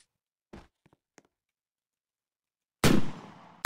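A gun being tested in a Roblox Studio first-person shooter game: a few soft, short clicks, then one loud, close blast that rings out near the end.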